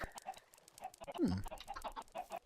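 Chickens in the Minecraft video game cluck in short repeated bursts across a busy farm scene, with a brief louder squawk in the middle and other game sounds around them.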